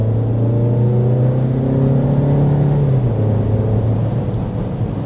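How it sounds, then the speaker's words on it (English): A 2025 Audi Q3 engine accelerates smoothly from inside the cabin, a steady hum that rises in pitch and then eases, continuous and fairly loud but refined, with no talking. "the engine sounds very quiet and refined as well"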